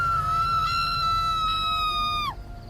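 A single sustained, high-pitched scream holds steady for about two seconds, then drops off abruptly over a low rumbling background.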